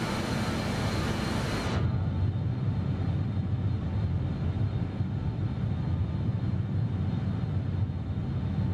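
A BAe 146 airliner cruising in Microsoft Flight Simulator 2024, its engine drone steady and loud after a brief brighter hiss fades at the start, with no voices over the constant rumble.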